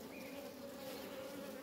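Honey bees that wintered on three frames hum steadily at an open hive, a dense continuous buzz with a strong low drone, close and even, with no voices.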